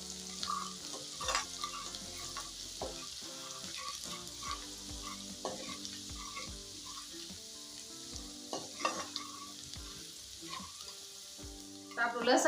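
Chopped garlic frying in a little oil for a spinach and potato dish, a continuous quiet sizzle broken by regular scraping and tapping of a stirring spoon, close by with no voices.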